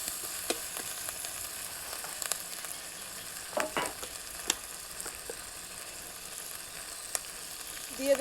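Chopped tomato and green chilli stirred in a pan for a fish curry, with a steady low sizzle and a few scattered spoon scrapes and clicks, fairly faint and without talk.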